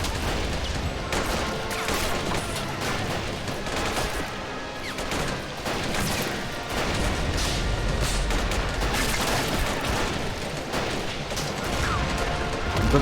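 Dense rifle fire rattles without pause in the AMOW war game as a red rifle division charges, with overlapping shots, distant booms and a crackling battlefield din throughout.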